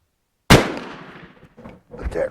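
A single loud, close Danish Rolling Block rifle chambered in 11.7x51R fires one sharp shot that booms and decays for a second, followed by brief faint rustling.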